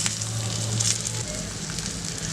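A chicken breast sizzles steadily in a hot grill pan, a close, continuous crackling hiss with a few brief sharper pops as it is pressed down.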